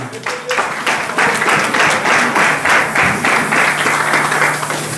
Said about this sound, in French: Nous acclamons pour la gloire de Dieu.